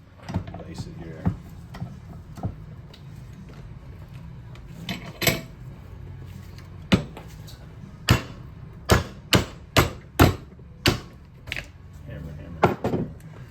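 Sharp metallic hammer blows striking the aluminum casing of a Specialized Brose 2.2 e-bike motor, about ten loud close impacts, sparse at first and then a quicker irregular run, over a low background rumble.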